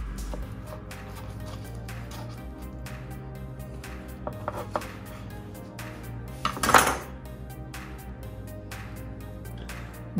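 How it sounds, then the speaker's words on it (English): A knife cuts into barbecued, sauce-coated racks of ribs on a board, giving soft, close chopping and scraping sounds with a few clinks of metal and a louder clatter partway through. No one speaks. "Let's cut into them and see what we got."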